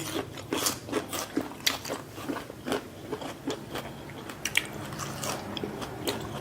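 Crunchy Thai papaya-style salad with sea snail and fresh vegetables chewed up close, a steady series of crisp, loud bites and crackles with no talking.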